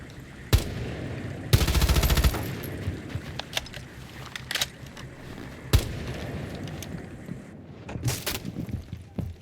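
MP7 submachine gun fire in a tactical video game match sounds in sharp, loud bursts, with one sustained rapid volley around the two-second mark and scattered single shots and impacts over a faint background rush.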